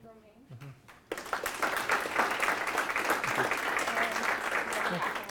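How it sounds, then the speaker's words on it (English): After a brief moment of speech, a conference audience bursts into applause for a machine learning speaker, a sudden loud onset of clapping that stays dense and steady to the end. "Let's give a round of applause to thank Romain."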